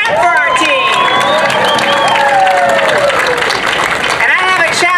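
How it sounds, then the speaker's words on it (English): Crowd at a Louisville City FC stadium groundbreaking ceremony clapping and cheering loudly, with whoops and shouts over dense clapping throughout. "let's clap for our team"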